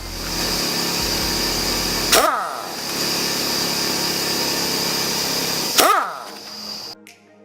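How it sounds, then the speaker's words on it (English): An electric impact driver or power tool buzzes steadily while removing the four 10mm clutch and pressure plate bolts on a Kawasaki KX85 engine, with two sharp rattling hits as bolts break loose, then it winds down, loud and close. "Next thing you're gonna wanna do is take off the four 10mm bolts holding the clutch"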